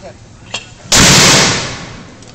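A single sharp, loud blast of a military mortar firing in Sumisip, with a short ringing tail fading over about a second, preceded by a faint click.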